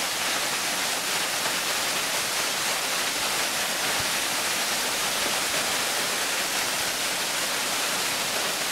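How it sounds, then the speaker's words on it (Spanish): A 60-metre waterfall near Cusco roars as a loud, steady broadband rush, with no pauses and no voices. "Esta cascada que ven acá tiene 60 metros."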